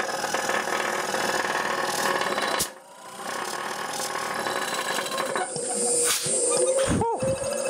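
A York compressor runs on a variable frequency drive, a steady mechanical hum and rattle with a brief dip midway and a rising whine near the end, close up.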